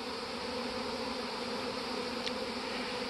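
Honeybees buzz around a hive in a dense, continuous drone with no pauses, close and steady throughout.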